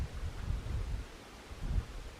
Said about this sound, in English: That wind is just constant and exhausting.